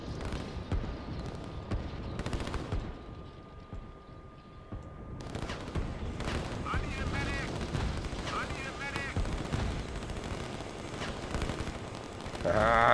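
Bombers striking in the strategy game Line War, with repeated booming explosions and rattling gunfire-like bursts rising and falling over several seconds, some brief chirpy game effects near the end.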